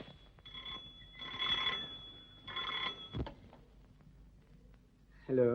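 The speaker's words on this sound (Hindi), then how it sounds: "ये उसी का फोन होगा" An old telephone bell rings in two bursts separated by a pause, in a 1952 Hindi film scene; a thud follows the rings, and a louder musical sound enters at the very end.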